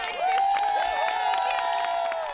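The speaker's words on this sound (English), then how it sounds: "staffers lined the parking lot for a virtual clap out" School staff lined up in a parking lot cheer graduating Wildcats elementary students at a clap out, with a sustained high whoop riding over continuous crowd cheering from start to finish.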